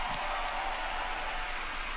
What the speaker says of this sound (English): Another round of applause, please, for Marty, Hugo, and all of our presenters tonight.